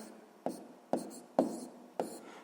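Numbers being written by hand with a pen on paper: four short, distinct scratching strokes spaced about half a second apart, quiet and close, with no voices.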